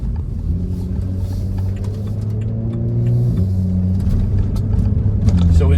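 A BMW 135i engine hums steadily while driving, its tone climbing and then dropping as the automatic gearbox shifts up, with a low road rumble underneath and a voice talking faintly.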